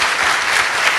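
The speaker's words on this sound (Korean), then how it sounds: "다시 한번 감사의 박수" Steady, dense applause from a church congregation, continuous and even throughout the short burst with no voices standing out.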